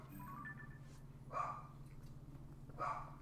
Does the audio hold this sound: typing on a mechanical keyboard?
no